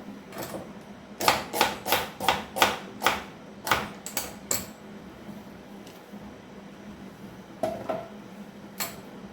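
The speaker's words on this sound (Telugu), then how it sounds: "నేను వెజిటబుల్ కట్టర్తో అన్ని ముక్కలు కట్ చేసుకుంటాను ఇప్పుడు" Taro root being sliced into rounds with a hand vegetable cutter, a run of sharp rhythmic chops, about eight in quick succession, then a few scattered cuts against quiet room noise.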